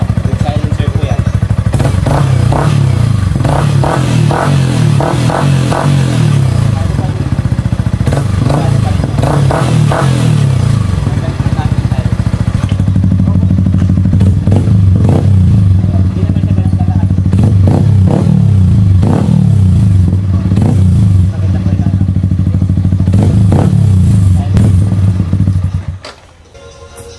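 A Yamaha R15 motorcycle fitted with a Yoshimura Alpha aftermarket muffler and silencer idles loudly and revs in repeated bursts up close, its exhaust roaring for about twenty-five seconds before cutting off.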